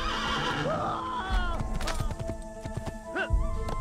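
A horse in the Assassin's Creed video game neighs in a rising whinny and clip-clops along, with a second whinny near the end.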